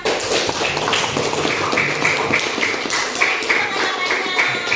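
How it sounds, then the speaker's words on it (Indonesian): Classroom of students clapping their hands together, brisk overlapping claps with a slightly rhythmic, tapping texture, close and steady throughout, with a murmur of voices underneath. "jadi tepuk tangan dulu semua"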